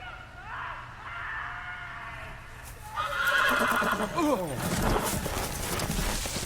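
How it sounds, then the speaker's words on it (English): A horse in the Game of Thrones Telltale video game gives a shrill whinny, then hooves clip-clop quickly as it gallops off, all close and loud with voices mixed in. "Horse ran away."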